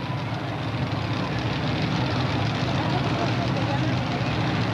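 Several engines on a multi-engine pulling tractor roar steadily and loudly at a 1996 USHRA truck and tractor pull in Evansville, Indiana, a dense continuous drone that stays unbroken throughout.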